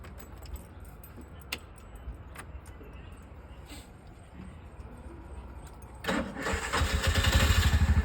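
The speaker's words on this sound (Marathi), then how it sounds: "गाडी ऑन झालेली आहे आपली" A vehicle with a suspected worn clutch: after quiet handling and faint key jingles, the engine cranks and fires about three quarters of the way through, then settles into a loud, close, rumbling idle.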